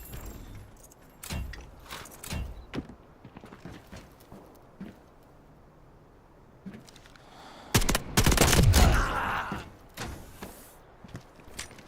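Gunfire in the video game Delta Force, scattered sharp cracks and short bursts among footsteps and gear rattle, growing into a loud, dense volley near the end.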